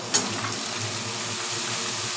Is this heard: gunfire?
no